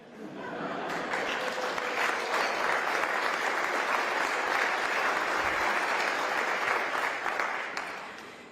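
Sustained audience applause fills a hall during Oregon Governor Tina Kotek's 2025 State of the State speech, swelling in quickly, holding steady and loud for several seconds, then tapering at the end with no talk over it.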